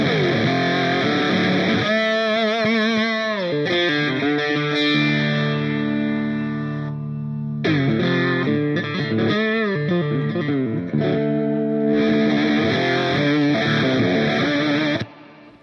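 Distorted electric guitar through an Analogman BC183 Fuzz Face-style fuzz pedal, loud sustained chords and bending single-note lines with a brief pause midway, then a final strum that cuts off.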